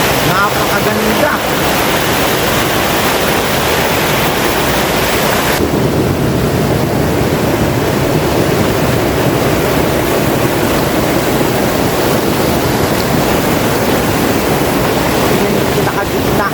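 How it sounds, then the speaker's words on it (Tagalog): Water rushes loudly along a river near the Malagonlong Bridge in Tayabas, Quezon, a dense continuous roar with wind buffeting the microphone, heard up close and steady throughout. "yung nagaslas ng tubig"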